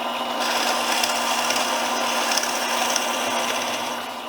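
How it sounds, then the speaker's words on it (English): A drill press bores through wood with a 1-inch bit, a steady close whirring and rasping that runs throughout and tapers slightly at the end. "Now I'm going to drill that at my drill press."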